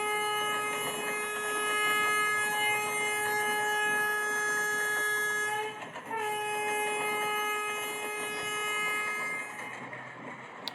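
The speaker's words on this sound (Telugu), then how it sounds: "హార్న్ ఎలా వస్తుందో చూద్దాం" A train horn in the Indian Rail Express 2025 video game blows as a long, loud, steady tonal blast, briefly cut off near the middle and then resumed, over a constant rumble of rolling rail cars.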